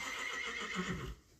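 A horse whinnies in a single quavering, high-pitched call that fades out abruptly, heard at moderate distance with no talking.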